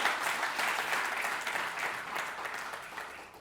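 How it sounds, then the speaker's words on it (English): An audience at a port membership meeting applauds a guest speaker, steady clapping from a modest crowd, moderately loud and continuous before tapering slightly. "I wanted to give another round of applause to our speaker today."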